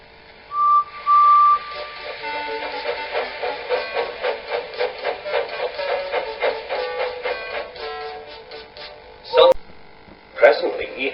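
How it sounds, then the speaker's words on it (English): Train engine whistle in a children's storybook railway tale, with two short steady whistle toots near the start followed by rhythmic chugging puffs and clanks. "Presently he heard a whistle."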